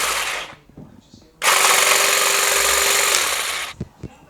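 A cordless battery-powered 2-in-1 electric hedge trimmer and grass shear motor whirs loudly and steadily for about two seconds after a brief earlier burst, with a few faint handling clicks before and after.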